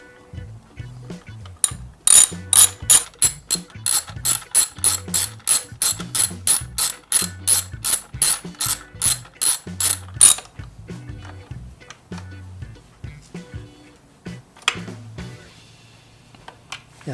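A hand ratchet turns a 6mm hex bit on stainless steel motorcycle swing arm spools, a close, loud run of rapid evenly spaced clicks for about eight seconds, then slower scattered clicks and handling noises.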